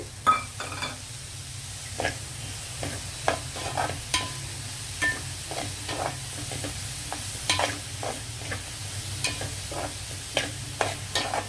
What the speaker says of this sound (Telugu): ఉల్లిపాయలు వేస్తున్నాను నేను ఉల్లిపాయ ముక్కలు ఇప్పుడు వేస్తున్నానండి